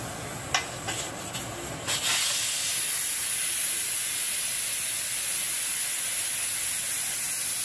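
A few sharp clicks, then a loud, steady hiss of steam rushing out of a pressure cooker that keeps going without a break.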